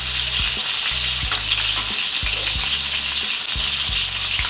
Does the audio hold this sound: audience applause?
no